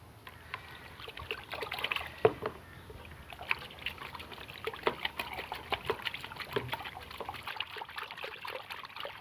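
A graphics card is rinsed in water, giving a soft trickling and splashing with scattered small drips and sloshes, quiet and close, continuing unevenly throughout with no speech.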